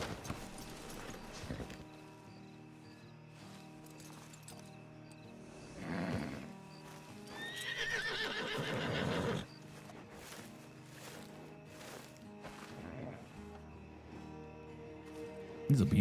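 At a night camp in a western adventure game, a horse's hooves clop in scattered steps, a whinny rises in the middle, and soft background sounds and voices stay low throughout.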